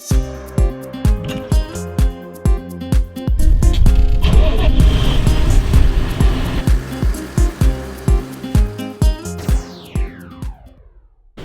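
A tractor rolls a mustard cover crop flat on a field of loamy soil with humus, clay and stones. A loud, close mechanical rumble runs throughout, punctuated by steady rhythmic clanks and thumps.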